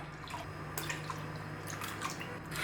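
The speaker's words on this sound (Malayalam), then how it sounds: "ഇനി ഇതിലേക്ക് നമുക്ക് അര ലിറ്റർ വെള്ളം ഒഴിച്ചു കൊടുക്കാം" Half a litre of water splashes into milk in a cooking pot in soft, faint bursts of pouring and dripping close by.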